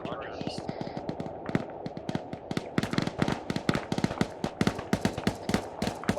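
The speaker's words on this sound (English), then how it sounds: "hear that gunfire off to our east?" Gunfire in ArmA 3, a rapid stream of sharp shots and bursts in quick succession, off in the distance and running steadily throughout the clip, with no talk over it.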